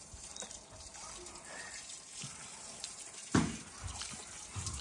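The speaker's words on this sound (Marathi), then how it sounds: "आता बघा पाणी मारायचं काम चालू आहे." Water is sprayed onto a freshly mud-plastered wall of an old village house, heard as a faint steady splashing hiss with a sharper gush near the end, fairly close, with no talk.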